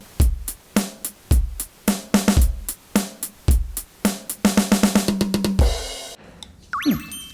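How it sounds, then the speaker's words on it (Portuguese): A cheap electronic drum kit on its normal drum sound plays a steady beat of kick, snare and hi-hat hits, speeding into a quick fill, then a cymbal-like crash and a rising synth tone. "Esse é o som de bateria normal."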